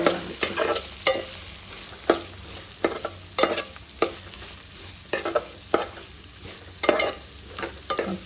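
Tempering spices with fenugreek powder sizzle in hot oil in a pan for papu charu, with repeated close scraping stirs and clacks of a spoon over a steady frying hiss, no talking.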